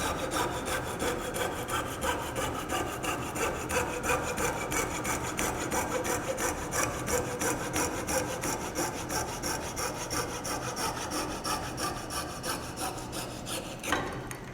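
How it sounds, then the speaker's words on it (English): A hand-held coping saw cuts through wood, each stroke moved by hand. The rasping strokes are steady, fast and close, and run without pause; near the end there is a brief knock. "then you can cut the smaller parts with the coping saw"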